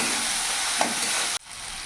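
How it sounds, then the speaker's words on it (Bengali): Spices (salt, turmeric and cumin powder) frying in hot oil for a katla fish curry, a steady loud sizzle with stirring that cuts off abruptly near the end, leaving quieter hiss. "মশলাটা একটু ভাজা ভাজা করে দেবো।"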